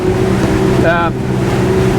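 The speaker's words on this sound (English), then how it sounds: "You can feel the displacement of the boat right now as we make our way into short and sharp chop" A 2022 Regal 38 SAV day boat with 900 hp powers through short, sharp chop. The loud, close engine roar and hull-and-water rush hold steady under buffeting wind, with a brief whine midway.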